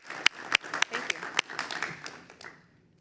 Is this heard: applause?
yes